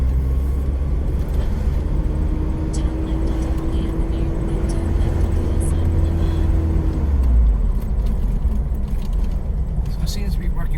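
A 1985 Toyota 4Runner truck rolls along with a stiff suspension, giving a loud, constant low engine and road rumble with a sustained whine, light rattles over bumps, and a voice talking over it.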